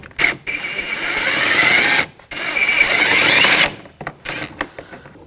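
A ratchet fitted with a T30 socket works a bolt out of a 2000-2006 BMW X5 front door, in two long bursts of rapid buzzing clicks separated by a short pause, then a few scattered clicks.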